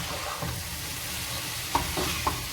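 Chicken for a Kerala chicken roast stirred as it fries in coconut oil over a medium flame, a steady close sizzle broken by a few soft scraping knocks of the spoon, with no talking.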